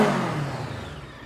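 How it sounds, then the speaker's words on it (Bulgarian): Brixton Storr 500 adventure motorcycle with a 500 cc engine, a short close burst of stock exhaust note as the engine revs and then settles back, loud and throaty with no voices over it. "Страхотен звук от 500 кубиковия двигател, без да е необходимо да добавяте нещо."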